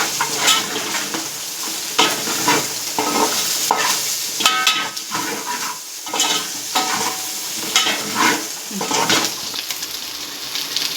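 Chicken curry gravy paste with turmeric frying steadily in a pan, with a continuous sizzle broken by repeated scraping strokes of a spoon stirring it, close and fairly loud with no talking.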